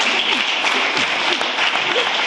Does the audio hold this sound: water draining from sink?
no